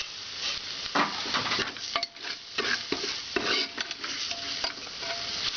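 Biryani masala with salt sautéed in a pan for pressure-cooker chicken biryani: a steady sizzle with repeated scraping, clinking stirring strokes, close and fairly loud, with no talking.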